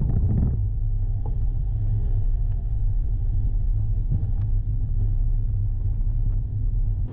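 A car climbs a mountain pass road in Kyrgyzstan, its low engine and road rumble steady and loud throughout, close inside the vehicle with no talking.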